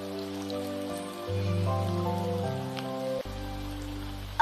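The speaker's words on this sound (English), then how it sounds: "It's going to rain more." Steady rain falls outdoors as a soft, continuous hiss running under sustained, gentle background music throughout.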